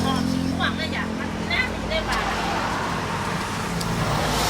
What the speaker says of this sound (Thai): เสียงรถมันดังด้วยเนอะ